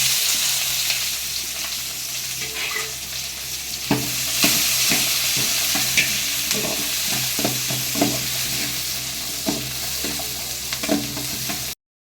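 Sliced onions with mustard seeds and curry leaves fry in hot oil for mutton and chicken gravy, giving a steady close sizzle with repeated scraping stirs and clinks from a spoon against the pan.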